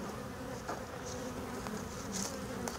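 Honey bees swarm around an opened hive in a dense, steady buzz, with individual bees zipping close past now and then; the sound is faint overall and no one speaks.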